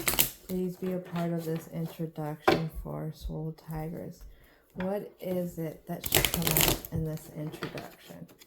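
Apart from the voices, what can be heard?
shuffling a new tarot card deck with gilded edges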